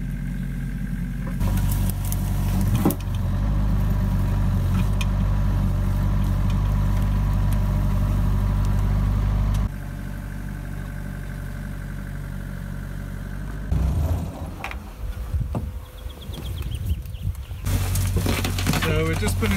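The engine of a Rhino utility vehicle idles nearby with a steady, low rumble, held on the foot brake because the handbrake is faulty, with a few brief clunks partway through.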